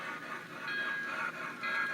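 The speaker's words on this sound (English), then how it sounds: "For those that love steam, here's a little bit of steam action at Oba." Algoma Central steam train crossing the CNR line at Oba rumbles past in a continuous, moderately distant wash of rail noise, with a faint ringing tone running through it.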